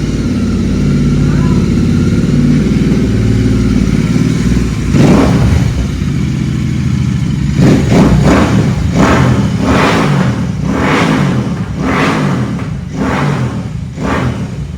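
Royal Enfield Interceptor 650 motorcycle fitted with a Red Rooster full-system exhaust, idling loud and steady, then blipped in a series of sharp revs that repeat roughly every second toward the end, close to the bike.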